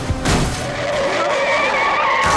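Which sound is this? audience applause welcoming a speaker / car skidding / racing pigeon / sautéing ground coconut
car skidding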